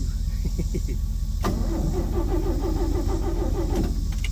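A 1972 Chevy Custom 10 pickup truck that has sat unused for years cranks steadily in a loud, close, continuous rhythmic churn. It keeps turning over without catching.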